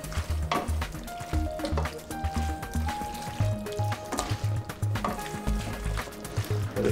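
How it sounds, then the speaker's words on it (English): Pappardelle with bacon and peas being tossed in a pan of pink sauce, with wet stirring and soft sizzling in irregular bursts and scraping close by, with no talking. "Toss that around. Get it all covered in that delicious pink sauce."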